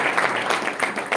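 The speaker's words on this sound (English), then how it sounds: "we can give a round of applause to" Brief dense applause from an audience at an interfaith symposium on Islam and peace, a steady clatter of many hands with voices mixed in beneath.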